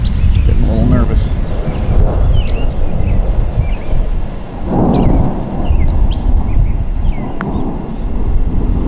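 Thunder from an approaching thunderstorm with lightning and wind-driven rain rumbles loud and near, continuous over the pattering rain, while a person talks.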